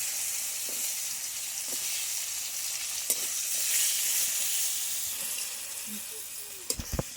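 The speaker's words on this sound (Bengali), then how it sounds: "কাঁচকলা ভাজা হয়ে গেছে, তুলে নেব।" Raw plantain slices fry in hot oil, giving a constant crackling sizzle up close, with scattered light clinks and a few quick utensil taps near the end.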